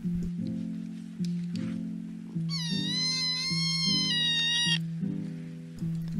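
A small cat gives a long, drawn-out, high meow lasting about two seconds over a steady, repeating musical background.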